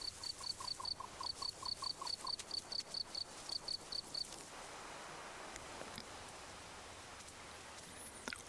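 A desert cricket chirps in a steady, evenly spaced string of sharp pulses for about four seconds, then falls silent, leaving soft rustling background noise; close and clear with no talking.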